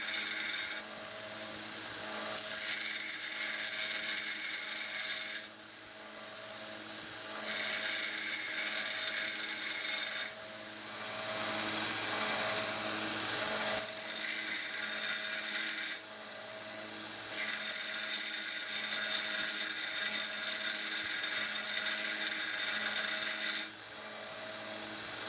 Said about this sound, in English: So I switched to an 80 grit belt in my 1x30 machine.